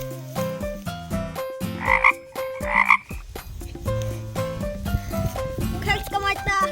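A frog croaks in short raspy bursts at close range, caught in a field in Shinshinotsu, heard over a steady bed of music with several strong croaks near the middle.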